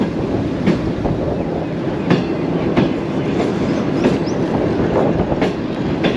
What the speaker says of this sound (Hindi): सिर्फ 3 मिनट स्टॉप किया है बहावलपुर रेलवे स्टेशन पे और रवाना हो चुकी है हमारी ट्रेन।